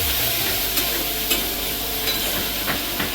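Spices with ginger, onion, garlic, cardamom, clove, bay leaf and turmeric frying in a wok with boiled potato, a loud continuous sizzle with soft periodic scrapes of stirring, no speech.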